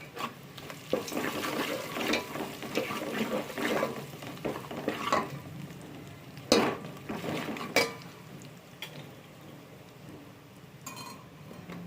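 Ginger paste fries in oil for biryani after shahjeera, giving a steady close sizzle broken by scraping stirs and a few sharper clatters, with no talking.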